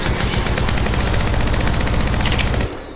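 Apex Legends Mobile weapon firing in one continuous rapid automatic burst, loud and close, for nearly three seconds before cutting off into a fading tail.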